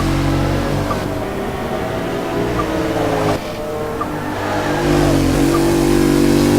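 A loud race car engine revs and whines up close, its pitch climbing and dropping with gear shifts.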